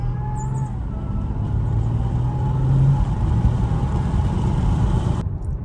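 An Audi SQ5 on aftermarket wheels drives around the block, its steady engine and road rumble heard from inside the cabin, loud and continuous with a low hum throughout.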